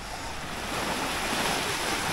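Ocean waves wash steadily onto Nagahama beach in Japan in early September, a continuous broadband surf roar that swells gently, with some wind noise against the microphone and no voices.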